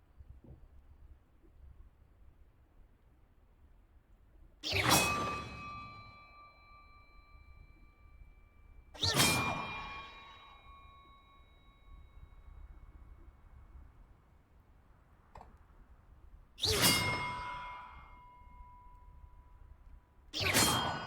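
Bells struck one at a time in the video game Hogwarts Legacy, four loud ringing tones spaced several seconds apart, each with a bright clang and a lingering resonant hum that fades before the next, with no talk.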